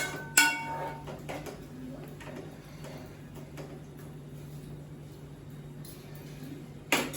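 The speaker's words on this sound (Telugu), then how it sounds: "మొత్తం అంతా ఒకసారి కలపాలి." Masala curry is mixed in a pot with a metal spoon: a sharp clank opens, soft scrapes follow quietly over a low hum, and another clatter comes at the end.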